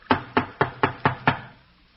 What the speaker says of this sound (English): Go on, knock on the door.